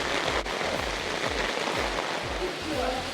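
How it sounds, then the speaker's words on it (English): Heavy rain pouring down outside a resort restaurant at night during a power cut, a dense steady hiss with drops pattering on surfaces, close and continuous. "It's heavy rain, no power."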